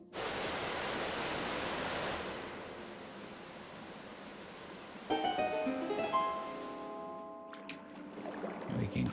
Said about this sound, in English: You can hit this to raise the water level